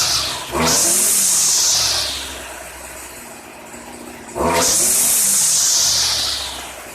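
A Stihl FS string trimmer with a freshly fitted Hipa carburetor revs up twice from idle, each burst climbing to a loud high whine and then easing back down, heard close with no speech.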